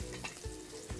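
Panko, garlic and parsley are stirred in a pan with soft rhythmic scraping over a faint, low sizzle in a brief, quiet moment.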